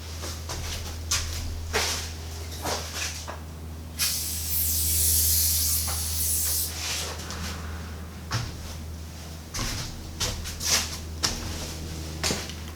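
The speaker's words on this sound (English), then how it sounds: "I'm gonna also go around the top and spray in there as well." Aerosol lubricant sprayed into garage door rollers and track in a series of short hissing bursts, with one longer sustained spray in the middle, over a steady low hum.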